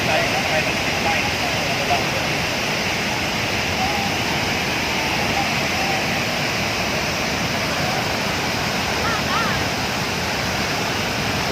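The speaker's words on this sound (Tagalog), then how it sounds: "Natural waterfall" A natural waterfall at Lake Sebu, South Cotabato, pours in a dense, constant rushing roar that stays loud and even throughout, with no breaks.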